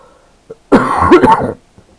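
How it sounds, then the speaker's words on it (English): A single harsh cough, close and loud, lasting under a second, with a brief throat sound just before it and quiet afterward. "Sorry about the cough."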